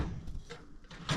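A drawer on a Craftsman S2000 26-inch steel tool chest is pushed hard and soft-closes, giving a few quiet sliding rumbles and muffled thuds with no hard slam.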